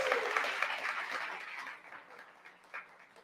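Studio audience applause on the late-night show Pitt Tonight, a steady broadband patter of clapping that thins and fades over a few seconds, with a faint voice underneath.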